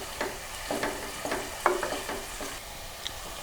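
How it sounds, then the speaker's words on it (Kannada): Onions fry in a pan with ginger garlic paste over medium flame, a steady close sizzle broken by repeated scraping stirs of a spoon, with no talking. "ಈಗ ಶುಂಠಿ ಬೆಳ್ಳುಳ್ಳಿದು ಹಸಿ ಸ್ಮೆಲ್ ಹೋಗೋವರೆಗೂ ಫ್ರೈ ಮಾಡ್ತೀನಿ"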